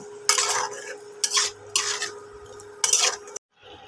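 Fried potatoes and chicken kofta curry are stirred together in a pan, four bursts of scraping spatula strokes against metal over a low sizzle, close, ending in a sudden cut.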